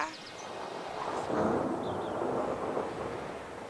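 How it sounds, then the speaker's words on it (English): Wind of an approaching storm in an animated autumn-and-winter hedgerow tale: a steady, full-bodied roaring rush that swells slightly midway and holds at moderate loudness, with no voices over it. "Just listen to that wind."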